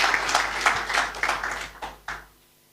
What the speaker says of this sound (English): Please, a round of applause as we recognize Dr. Essien